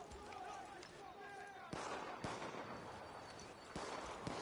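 Faint shots in Far Cry New Dawn crack out in a few sharp, separate bursts over a low background wash, distant-sounding and quiet.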